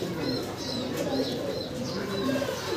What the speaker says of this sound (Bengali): টেডি কবুতর